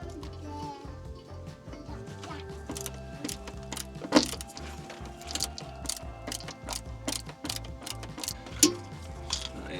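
Ratcheting clicks and gear-like ticking from a screw being driven into a grey waste drain fitting on a campervan, in close, uneven bursts with a couple of sharper knocks.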